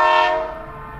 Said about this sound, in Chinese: 火车在铁轨上行驶。